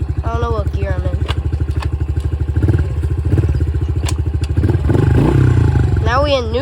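A dirt bike engine drones steadily while riding, loud and close with a throbbing, rattly tone that swells as the throttle opens midway, and a voice speaks over it near the end.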